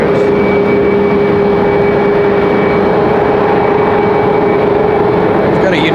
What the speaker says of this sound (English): American Airlines 979 coming at us from Dallas Fort Worth